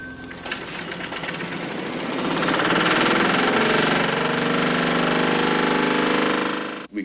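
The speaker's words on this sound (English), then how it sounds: "It is the fuel that powers this engine." An engine running on hydride fuel made with ammonia revs up and holds a loud, steady mechanical chugging drone, ending abruptly.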